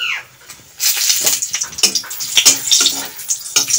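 Dried red chilli and bay leaf dropped into hot oil in a home kitchen: loud, close crackling sizzle with sharp spits and pops throughout, following a brief quieter moment, with no talk.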